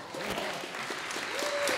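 Applause from a small crowd at a microchipping party where a woman is getting an electronic chip implanted in her hand, steady clapping over the whole moment with a brief tonal whistle or squeal near the end.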